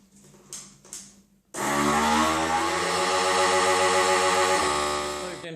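A vacuum sealer sealing an Umai dry-age bag: after a few soft handling bumps, a loud steady motor drone kicks in and runs evenly to the end, close and alone.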